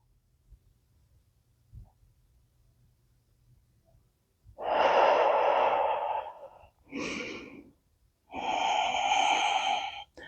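Deep exhales during a chair yoga session: three loud, breathy breaths close to the microphone, the first long, then a short one and another long one, after quiet room tone.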